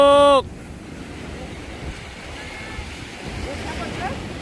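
Ocean waves rolling in at Guryongpo beach in Pohang on an autumn day, a steady broadband wash of surf with wind noise after a brief opening tone, swelling slightly toward the end.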